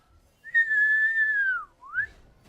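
A person with a lip infection whistles: one long sustained tone gently falling in pitch, then a short rising upward note, clear and close in a quiet room.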